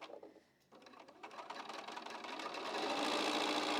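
A sewing machine stitches quilt block pieces together, its motor starting softly, pausing briefly, then speeding up into a steady, rising hum of rapid stitching.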